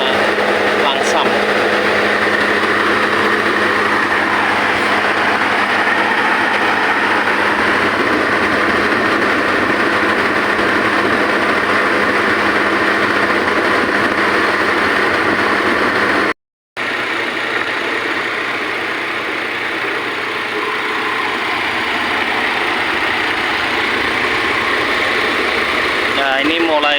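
A Toyota Innova engine idling with a rough, rumbling and rattly note, loud and steady at close range, with a brief cut partway through.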